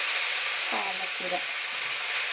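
Spinach frying in a pan, a steady close hiss of sizzling throughout with faint brief stirring sounds underneath.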